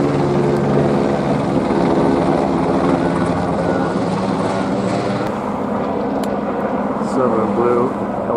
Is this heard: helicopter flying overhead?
yes